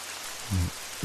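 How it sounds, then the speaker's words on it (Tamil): Steady hiss of rain falling outdoors, a dense even wash with a couple of brief low thumps partway through, close and fairly loud, no voices. "மழை வருதுல்ல"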